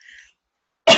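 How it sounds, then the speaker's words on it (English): One sharp cough bursts out close to the microphone at the very end, after a faint murmur and a moment of near silence. "The coffee may be what's making me cough all the time."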